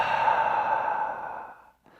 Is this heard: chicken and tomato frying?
no